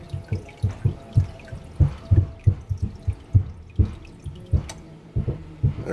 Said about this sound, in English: the water's filling up